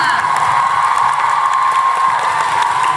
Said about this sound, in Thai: ปรบมือให้น้องอีกสักครั้งนึ่งค่ะ